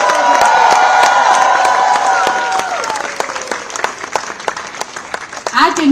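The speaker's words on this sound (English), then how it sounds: "A big round of applause to all the friends and fans of India House." Large crowd at India House during the Paris 2024 Olympics bursts into loud applause and cheering, dense clapping with whoops and shouts that stays strong, then thins into scattered claps before swelling again, with voices mixed in.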